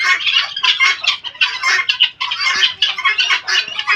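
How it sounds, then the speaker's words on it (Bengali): Caged partridges (titir) call in loud, rapid, overlapping squawks and harsh chattering bursts, close by and nearly continuous with brief pauses. "এই যে ভাইয়া আমার তিতির দেখেন"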